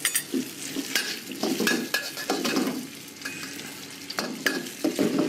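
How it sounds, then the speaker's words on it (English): Shallot, dried shrimp and bean curd fry in a wok at a Thai outdoor cooking setup, giving a continuous close sizzle with frequent rhythmic scraping strokes of the spatula against the metal. "Then some bean curd. That goes in and fries away too."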